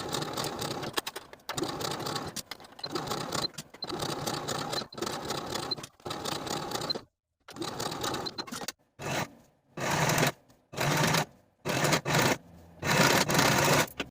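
A sewing machine runs a narrow zigzag stitch to attach a cardigan sleeve, whirring in long steady bursts that become shorter, choppier runs with brief pauses between them.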